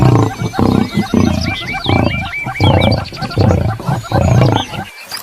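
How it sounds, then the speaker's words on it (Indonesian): A toy animal gives off a lion's roar, loud and close, in several long, rough, drawn-out bursts with brief gaps between them, ending abruptly. "Wih, ini singa."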